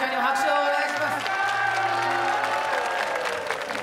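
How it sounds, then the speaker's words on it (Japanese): An audience applauds for Kago-chan at the 2009 Japan swimming competition with gravure idols, a steady spread of clapping that lasts throughout, with a voice and tonal background sounds running over it. "はい、かごちゃんにも拍手をお願いします。"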